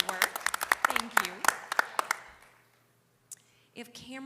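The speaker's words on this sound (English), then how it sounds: "please join me in a round of applause to congratulate them for their good work" A small meeting audience at a school board session gives scattered, sharp individual claps in an uneven rhythm for about two seconds, mixed with voices, then falls quiet before talk resumes.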